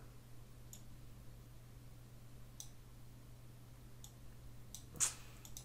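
A computer mouse clicks during photo editing, with a few sparse, faint, sharp clicks spread across the stretch over a steady low hum, the last one slightly louder.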